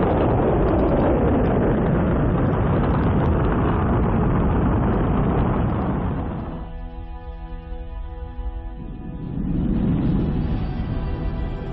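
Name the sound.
rocket engine start at Mars mission launch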